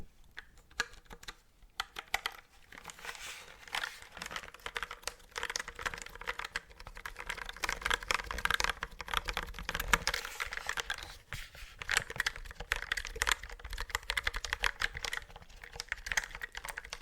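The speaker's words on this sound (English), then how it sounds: "This is so unlike every other keyboard I have." Fingers type rapidly on a computer keyboard held close, a dense run of crisp key clicks and clacks with brief pauses and a few louder taps, continuing throughout without talk.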